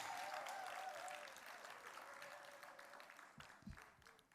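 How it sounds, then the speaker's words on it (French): An audience at a choir's anniversary concert applauds with dense, fading clapping that is faint and distant, tapering off over a few seconds. "Est-ce qu'on peut applaudir plus fort"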